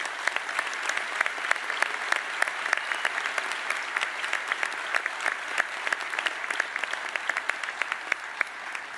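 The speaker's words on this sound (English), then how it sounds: "we owe them a special round of applause for what they're doing" A crowd applauds steadily, dense clapping sustained without pause from start to finish, moderately loud and even.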